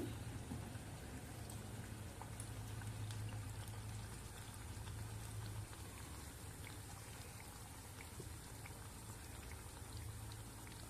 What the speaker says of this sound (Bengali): পরাটাগুলো দিয়ে মাঝারি আঁচে ভেজে নেব